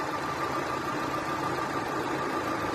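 An Opel Vectra B car engine idling steadily after its cooling circuit has been filled and bled, with an even, continuous mid-pitched hum and faint knocking texture, heard up close with no talking.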